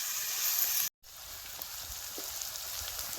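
Onion sizzling and frying in a pan for a village-style bajra bhakri tukde dish, a steady close hiss with faint stirring scrapes, broken by a brief drop to silence.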